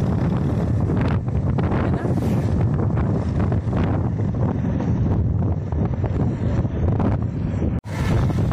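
Rushing wind buffets the microphone on a moving motorbike, a loud, continuous blustery roar with gusty swells and a brief dropout near the end.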